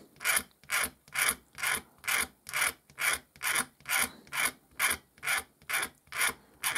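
A blade scraping a plastic model sprue, about thirteen evenly spaced rasping strokes in a steady rhythm, close and distinct with no talk.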